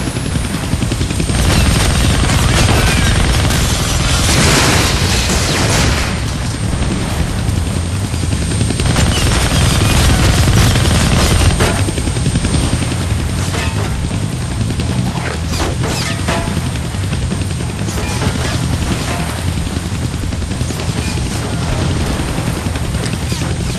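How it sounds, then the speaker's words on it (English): Attack helicopter in a Deadpool action video game firing its guns, a loud, continuous rotor roar and chopping with rapid gunfire bursts and crashes over about twenty seconds, dense layered game audio throughout. "I can't kill that chopper with my guns."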